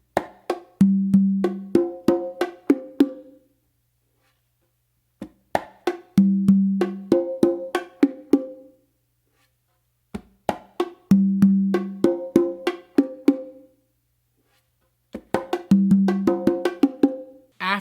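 A repeating conga and bongo tumbao and martillo pattern of quick slaps and ringing open tones, played four times with short pauses between, close and crisp.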